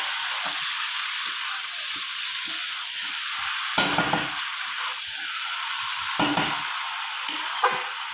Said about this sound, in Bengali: ভালো করে কষিয়ে নিয়েছি